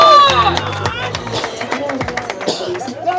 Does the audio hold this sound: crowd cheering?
yes